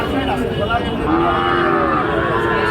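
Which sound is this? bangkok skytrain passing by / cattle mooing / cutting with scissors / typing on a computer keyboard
cattle mooing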